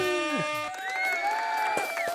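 An audience cheers and whoops for a big wave surfer guest, rising voices and shouts building loudly and holding for about two seconds, with a few sharp claps near the end.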